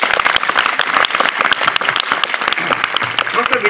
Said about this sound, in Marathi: त्यासाठी एकदा जोरदार टाळ्या वाजवू द्या.